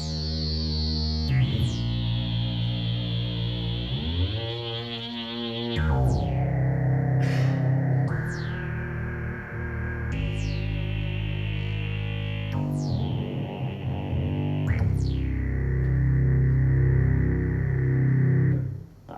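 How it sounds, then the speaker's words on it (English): A Novation synthesizer plays processed, distorted tones with heavy effects and reverb, sustained chords and bursts shifting in sections with swooping pitch sweeps, loud and close, with no talking. "Синтезатор обладает просто кучей всевозможных функций, множество звуков внутри, и сейчас Алекс продемонстрирует, как он звучит."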